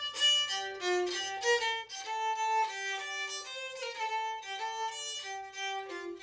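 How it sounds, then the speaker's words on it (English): A rebec, the medieval bowed ancestor of the violin, plays a melody of steady sustained notes that are bright and reedy, close and moderately loud, with no voices. "This instrument is actually called a rebec. It's the ancestor of the violin"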